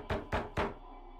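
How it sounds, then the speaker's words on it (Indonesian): Three firm knocks on a door, evenly spaced and close, each a dull booming thud followed by a quiet room. "Tiba-tiba ia dikagetkan dengan suara ketukan pintu."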